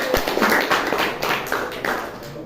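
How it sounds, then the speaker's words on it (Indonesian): Applause from a classroom audience for a student group stepping up to present, a dense, steady patter of many hands clapping at close range throughout. "tepuk tangan dulu untuk kelompok 2"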